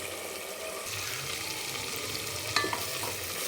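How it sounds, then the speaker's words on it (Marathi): Oil for the tempering of a spicy mutton rassa sizzles steadily in a pan, close and moderately loud, with a faint clink of a utensil near the end and no talk. "तर आपण हे आता फोडणी करणार आहे. त्याला तेल सुटू देते थोडंसं"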